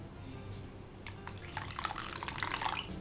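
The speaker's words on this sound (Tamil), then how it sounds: "நான் வந்து கொஞ்சம் இதில் தண்ணி ஆட் பண்ணிக்க போகிறேன்" Water poured into a pot of curry leaves kuzhambu, starting as faint trickles then building into a louder splashing pour over a low steady background hum.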